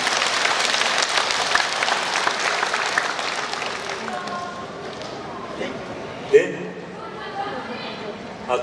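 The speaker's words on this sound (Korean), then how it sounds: "여러분 감사의 노고의 박수를 한번 주셨으면 좋겠습니다" Audience applause at a Korean community leaders' convention in Naju, with dense clapping that is steady at first and then fades, some voices rising under it and a few thumps near the end.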